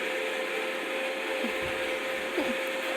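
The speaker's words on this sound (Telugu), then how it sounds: "మిక్సీ సౌండ్ వస్తుంది" Kitchen mixer grinder running steadily at home, a continuous loud motor whine and whir held level throughout, with faint background movement but no talk.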